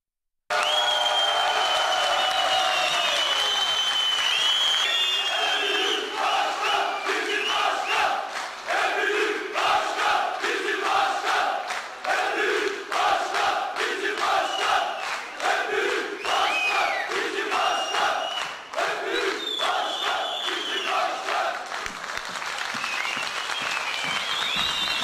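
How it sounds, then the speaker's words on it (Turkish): Roughly 350 mine workers at a union meeting in a hall applaud and chant slogans in rhythmic unison, loud and close, with repeated shouted phrases over continuous clapping that persists for the whole stretch. "yeniden adaylığını açıklayan Eyüp Alabaş, alkışlar eşliğinde kürsüye çıktı."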